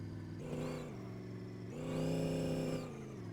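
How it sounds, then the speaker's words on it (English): A twin-turbo car engine hums at low level while a rising high-pitched turbo whine swells twice, the second longer and stronger. "Whine from the turbos."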